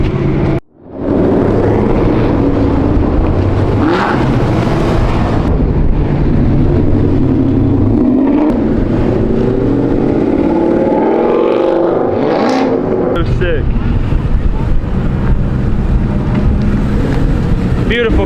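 A car roars past on a race track during a track day in Texas, its engine loud and sustained over heavy wind buffeting, with excited voices talking nearby.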